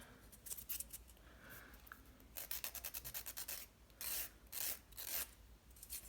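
A nail file rasps across a broken fingernail, bursts of quick back-and-forth scratching strokes that get louder and more rhythmic, then several slower, longer passes, close up with no voices.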